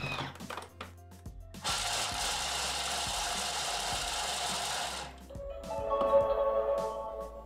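Thermomix food processor chopping pistachios at speed 5 in its bowl, a loud rattling whir of nuts hitting the blades for about three seconds, with lighter clicks and handling sounds before and after.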